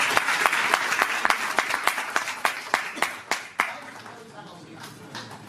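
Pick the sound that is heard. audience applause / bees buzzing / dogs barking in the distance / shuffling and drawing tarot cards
audience applause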